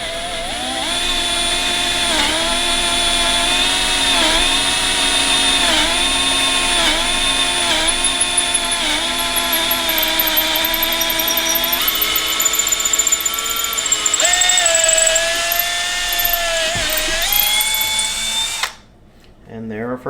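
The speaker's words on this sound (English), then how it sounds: "We're trying to hold the drill as level and as straight as possible, so they go in straight and not at an angle." A power drill bores holes for cabinet drawer pulls, a loud, sustained whining motor pitch that wavers slightly and rises near the end before cutting off abruptly, then a brief quiet pause.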